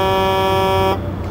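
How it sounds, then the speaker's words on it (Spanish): A truck horn in the Truck&Logistic Simulator video game sounds one loud, steady, buzzy tone for about a second, then cuts off, leaving a low engine rumble. "A ver qué claxon tiene."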